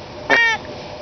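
Single short, nasal squeal from a gray squirrel call imitating an angry squirrel, close and clear, lasting about a quarter second over a quiet background with no voices.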